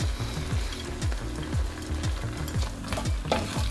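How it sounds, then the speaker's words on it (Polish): Pumpkin noodles and vegetables stirred together in a frying pan, a steady rhythmic scraping and sizzling repeated about every third of a second, close and alone. "Wszystko razem dobrze mieszamy."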